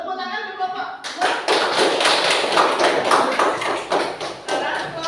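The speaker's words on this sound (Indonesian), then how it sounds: "Tepuk tangan untuk kelompok 2." Students in a classroom clap for a group that has just presented, a dense burst of many hands starting suddenly and continuing for several seconds, with voices mixed in.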